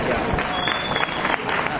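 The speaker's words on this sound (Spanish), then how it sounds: "un fuerte aplauso" Strong applause at the opening of an agri-food fair in Padul, Spain, with a crowd clapping densely and steadily throughout and voices mixed in.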